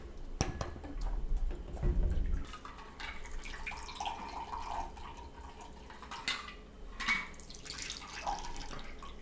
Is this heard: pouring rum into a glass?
yes